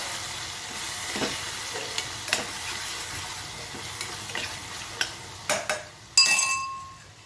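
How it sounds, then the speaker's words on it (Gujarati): A spoon stirs a sizzling chili and spice mixture in a pan, with a quiet frying hiss under scraping strokes and a few sharp clinks toward the end, no voices. "સરસ બધું આપણે મિક્સ કરી લઈએ."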